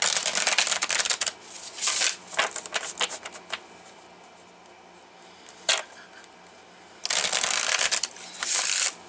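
Tarot cards are shuffled and drawn at close range, crisp riffling bursts that come in several separate rounds with quiet pauses and a single sharp flick between them.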